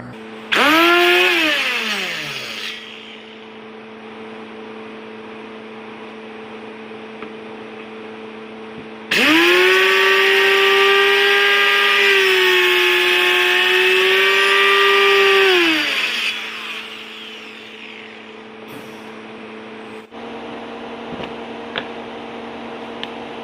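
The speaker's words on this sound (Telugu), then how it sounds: "మనం గీసిన 3 గీతలను సెంటర్ పాయింట్లో మనం ఈ విధంగా కటింగ్ మిషన్తో కటింగ్ చేసుకోవాలి." Electric cutting machine slicing along marked lines, a loud sustained whine that spins up, holds for several seconds, then winds down, repeated twice with a steady hum between runs.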